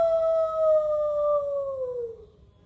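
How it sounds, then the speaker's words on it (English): A lone guard dog's long howl carries from a distance at night, holding one steady drawn-out pitch before sliding downward and fading out over a few seconds. "When you hear a screech and scratch, or maybe a distant howl,"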